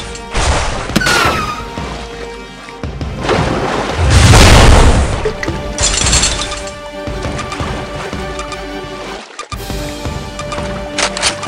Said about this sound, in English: Flamethrower!